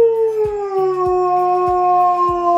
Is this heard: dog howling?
yes